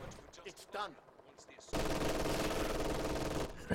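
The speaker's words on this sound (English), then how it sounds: "MG42 in the building here now from Stark." MG42 machine gun opening up in Company of Heroes 2, a sudden loud sustained burst of rapid fire that runs for about two seconds after a stretch of talking.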